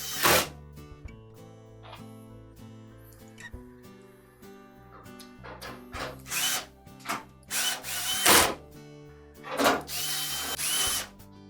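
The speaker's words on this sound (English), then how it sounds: "we'll begin by installing one of the screws through to the cabinet" A power drill drives screws into the cabinet of a Whirlpool dryer during blower wheel repair, in several short whirring bursts of rising intensity with pauses between them, close and loud.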